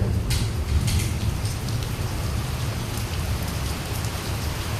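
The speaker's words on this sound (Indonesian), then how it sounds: "ini kita sambil dengerin suara hujan ya guys" Heavy rain pours down at a campsite, a dense, steady hiss of drops drumming on surfaces close by, continuous and unbroken with no voices.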